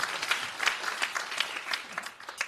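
Scattered applause from a congregation during a Sunday church service, fairly faint and uneven, with irregular bursts of clapping rising and falling over a couple of seconds.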